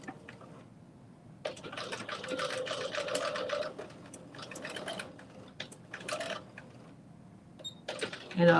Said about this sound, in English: I'm stitching like right across, right in the side seam, to keep it from unraveling